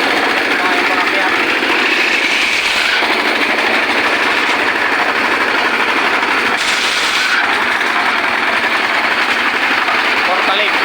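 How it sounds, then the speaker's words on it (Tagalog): A concrete pouring machine's engine runs at a construction site in Balungao, a loud, constant high-pitched drone with only slight shifts in tone throughout. "Ito yung ginagamit namin na makina."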